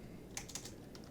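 A few quick, faint keystrokes on a computer keyboard as a search term is typed into a crafting menu in the online game Star Wars: The Old Republic, heard alone and close.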